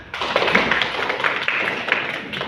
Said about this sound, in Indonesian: sekali lagi kasih tepuk tangan